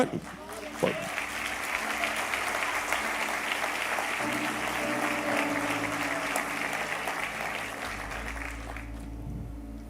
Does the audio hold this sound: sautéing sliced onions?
no